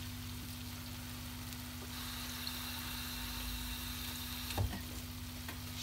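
Wild greens frying with onion in a pan, a soft continuous sizzle under a steady low appliance hum, with one brief utensil knock near the end, quiet and close without talk.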